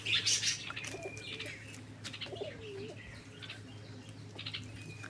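Pigeons coo softly at a coop, with low throaty calls and faint chirps over a steady background hum and a brief flutter near the start.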